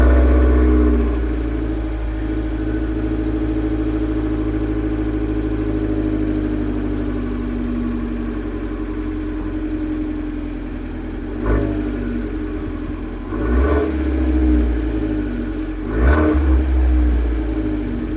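A Fiat 500 engine, sold as a cheap sports car, idles with a low steady rumble close by, then revs sharply a couple of times near the end.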